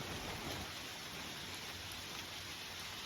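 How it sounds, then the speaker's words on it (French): Steady, even rain hiss filling the air at a moderate distance during a hike, a constant wash of drops with no voices. "Ouais, il pleut beaucoup là."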